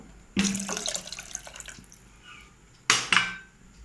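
Water splashes and pours into a metal cooking pot nearby while making thinai (foxtail millet) pongal, ending with a couple of clanking knocks of cookware.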